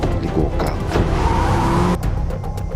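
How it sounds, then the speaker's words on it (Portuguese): A car's engine running steadily at close range, with a broad rumble and a faint tire-like squeal, then a sharp drop in the sound just before the end. "Eduardo ligou o carro"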